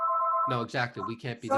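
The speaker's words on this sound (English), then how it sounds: "Sorry about the phone ringing." A telephone rings during a phone interview, a steady electronic tone heard briefly alone before a voice starts talking over it.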